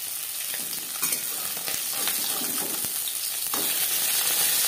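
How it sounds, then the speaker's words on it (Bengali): Parshe fish fry in a pan of mustard-paste masala, giving a loud, continuous sizzle with scattered crackles and stirring scrapes, close up with no talking. "একটা সাইড ভাজা হয়ে গেলে অপর সাইডটা উল্টে দেবো।"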